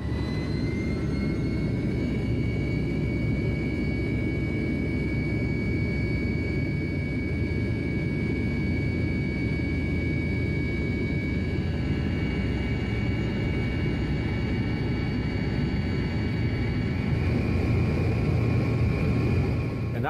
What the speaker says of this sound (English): It was just amazing to hear the engine starting at the back of the Tupolev 154.